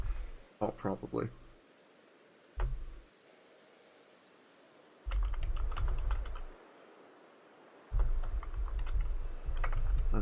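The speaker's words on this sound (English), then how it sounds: "I wonder if you can hear my keyboard" Computer keyboard typing during a Pokemon Legends gaming session, in bursts of rapid close clicks separated by quiet pauses, with a voice talking over parts of it.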